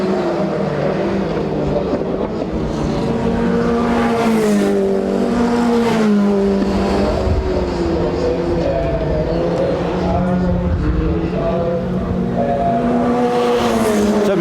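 Formula Ford 1600 race cars lap a circuit at a historic racing festival, their engines droning loudly and continuously with rising and falling pitch as cars pass and shift, steady throughout with no voice heard.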